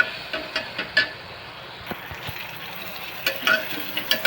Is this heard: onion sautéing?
yes